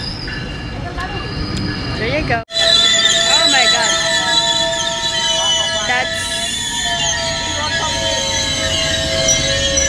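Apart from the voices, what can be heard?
GO train commuter train in Canada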